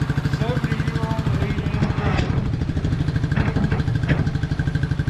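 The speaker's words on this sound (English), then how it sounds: "That engine sounds smooth." A 1999 Suzuki DR200 motorcycle engine idles close by with a steady, even single-cylinder putter, and voices talk intermittently over it.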